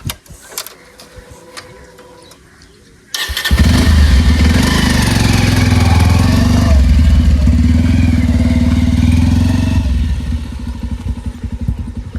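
A motorcycle engine catches at about three seconds after a quieter start, then idles loud and steady close by with a low rumble, easing slightly near the end.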